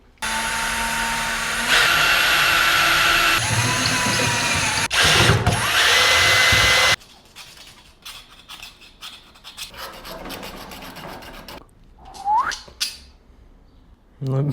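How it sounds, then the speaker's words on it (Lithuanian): A power drill fitted with an 8 mm bit bores through a metal plate, its loud whining motor running steadily for about seven seconds with shifting pitch as it bites, followed by quieter handling clatter and brief movement sounds. "Tai ką dabar reikia daryti skylę"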